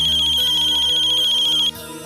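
A phone rings loudly and close by with a repeating electronic ringtone melody, which cuts off abruptly after under two seconds.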